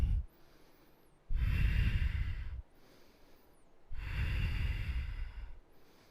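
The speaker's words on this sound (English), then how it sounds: "Powerful breathing." Forceful breaths during a yoga class, two long loud exhalations or inhalations each lasting over a second, separated by quiet pauses, close and rushing with no talk.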